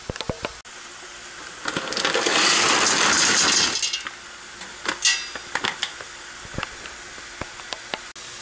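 Tap water running into a pasta pot in a burst of rushing, hissing flow lasting about two seconds, framed by scattered clanks and knocks of kitchen handling.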